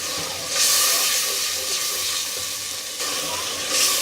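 Korma masala sizzles and hisses steadily in a pot after a little water is added, a loud continuous fry with brief surges of steam, no voices.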